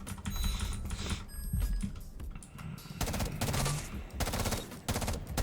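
Rapid gunfire from a video game during aim training, bursts of rattling shots coming in quick clusters with short pauses between them, loud and close.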